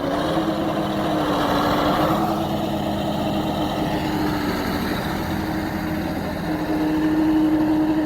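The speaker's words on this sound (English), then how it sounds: "Sean move the truck." A truck engine runs steadily throughout while the truck is moved, a continuous close rumble with a slight change in pitch partway through and no talk.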